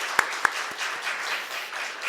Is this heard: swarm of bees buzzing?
no